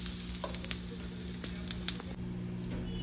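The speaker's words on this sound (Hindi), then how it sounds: "तो मारते हैं भाई इसमें तड़का।" Cumin seeds and asafoetida sizzling in hot oil for a tadka tempering, a close, steady frying hiss with a few sharper crackles and a stir, no talking.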